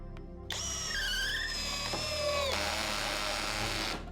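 A Dnipro-M CD-200BC Compact cordless drill-driver whirs with its clutch slipping and ratcheting at torque setting 14, a close, loud, steady buzzing whine with a pitch shift midway, running about three seconds before stopping.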